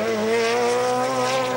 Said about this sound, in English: into the braking area now is Hansford in the ANZ Sierra